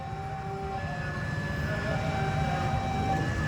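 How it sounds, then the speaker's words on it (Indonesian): An Indonesian train passes on the main line with a continuous rumbling roll of wheels on track, steady and close, with faint high tonal squeals overhead. "saatnya kereta lewat dari jalur utama"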